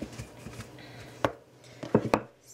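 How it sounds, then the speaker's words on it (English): A rolling pin works croissant dough with freezer-hard butter inside on a floured surface, giving irregular knocks and thumps with brief scraping between them, close by and with no talk. "it's quite tough to roll it out just because the butter is still very hard from the freezer."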